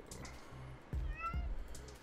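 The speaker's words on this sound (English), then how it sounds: "I hear a cat." A Minecraft cat meows a couple of times, moderately close, amid quiet in-game background sounds and a brief low thump.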